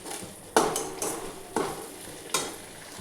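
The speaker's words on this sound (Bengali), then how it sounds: "এটা ভালো করে ভেজে নিই।" Ground cumin, coriander, Kashmiri chili powder and salt frying in oil in a pan, a soft sizzle broken by several sharp scraping stirs of a spoon, close and fairly loud, with no voices.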